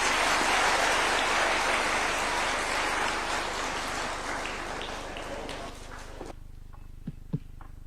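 Applause from an audience at KICC after an address by Kenya's president, dense and loud for about six seconds, then tapering off into scattered claps and quiet room tone.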